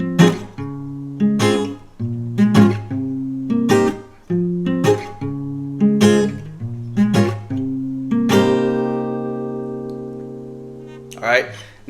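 A guitar plays the four chords of a song in a steady strummed rhythm, ending on one long ringing chord before a final strum.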